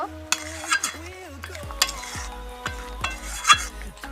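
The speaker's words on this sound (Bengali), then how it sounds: "এবার মাছের কোরমাটাকে নামিয়ে নেব, নাড়াচাড়া করে নেব।" Fish korma being stirred in a pan, close spoon scrapes and clinks against the metal over a low simmering sizzle, in uneven strokes.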